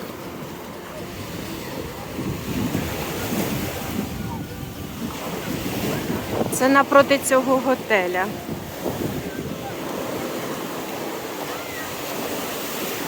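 Sea waves and surf wash steadily onto a crowded Odesa beach with wind buffeting the microphone throughout. Someone talks briefly over the surf, and a faint tonal burst rises in the middle.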